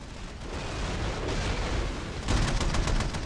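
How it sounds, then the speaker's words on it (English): Missiles slam into a fleet carrier during a Nebulous: Fleet Command match, a dense roar of overlapping blasts and rumbling impacts that swells louder toward the end, with no talking. "More missiles into this poor fleet carrier here"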